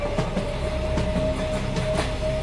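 Cartoon train getting under way, with a steady rumble of rolling rail cars, rhythmic clickety-clack of wheels and a faint high whine, all continuous and fairly close.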